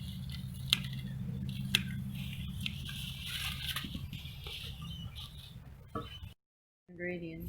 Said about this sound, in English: Make sure to use scissors to cut them, otherwise you'll pull out the roots.